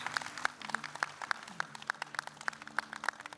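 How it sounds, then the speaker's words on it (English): Scattered claps from an audience at a hairstyling event after models are presented, sharp individual hand claps spaced irregularly over quiet room noise, thin and sparse rather than a full ovation. "ladies and gentlemen, hand of applause for these gorgeous ladies"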